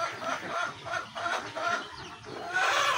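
Chickens on a small farm clucking in short, repeated bursts, with a rooster among them, fairly close and continuing for a few seconds without speech.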